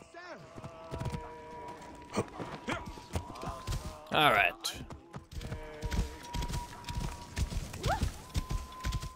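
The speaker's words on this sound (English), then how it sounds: "See if my horse can get here." A horse in the video game Assassin's Creed Origins trots closer with rhythmic clip-clop hoofbeats amid ambient game effects and a loud burst, while someone talks briefly over it.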